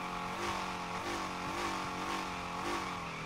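Car engine in the Torque Drift 2 video game revving hard and steadily during clutch-kick drifting, a continuous loud roar with rhythmic surges in pitch, heard alone.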